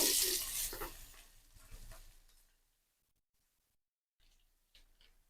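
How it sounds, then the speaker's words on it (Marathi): Chopped onions hiss and sizzle in hot oil in a wok for a couple of seconds, fading to near silence, followed by faint stirring scrapes. "कांदा छान मऊ पर्यंत आपल्याला परतून घ्यायचा आहे"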